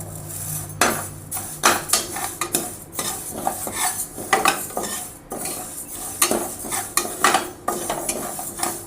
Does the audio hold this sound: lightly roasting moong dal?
yes